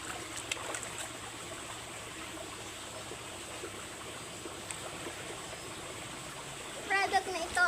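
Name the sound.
flowing stream water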